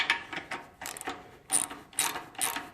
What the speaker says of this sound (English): We're tightening the bolt here